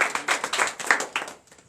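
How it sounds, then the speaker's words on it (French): Congregation clapping hands in unison during a night deliverance and prophecy church service in Comè, Benin: a loud, steady run of rhythmic claps that slows and fades toward the end. "C'est pas comme ça que je dois applaudir ma maman."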